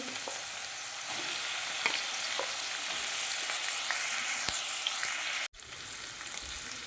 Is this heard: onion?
yes